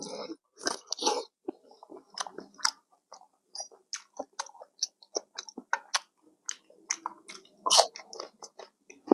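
Close, crisp crunching as someone chews pickled shrimp, with irregular bites and crackles over several seconds in a quiet setting.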